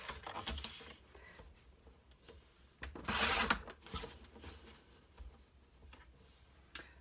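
A paper scrap is trimmed close up with soft, scratchy cutting and rustling strokes, one louder burst in the middle, in an otherwise quiet room.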